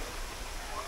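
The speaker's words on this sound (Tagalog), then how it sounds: "So ito yung isang falls dito." Balagbag Falls in Real, Quezon gives off a steady, broadband rush of falling water, continuous and even with no other sounds.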